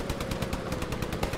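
Machine gun in a World War 2 shooter game, firing a fast, steady stream of loud rounds in one continuous close burst.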